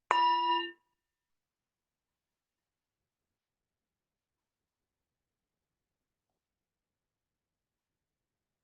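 A meditation bell gives one clear, bright ring that lasts under a second, followed by complete silence.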